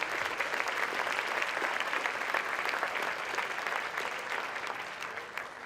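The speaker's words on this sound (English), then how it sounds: "round of applause for all those" Sustained applause from a large audience at a Boys and Girls Club Youth of the Year event, steady and dense throughout, tapering slightly toward the end.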